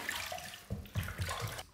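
Running water from a tap splashes and trickles close by while a face is wetted before a shave with a safety razor, with a few brief, uneven splashes over a steady flow.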